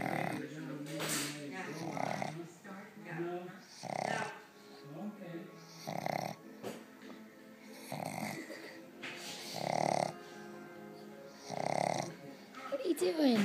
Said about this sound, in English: Quit snoring.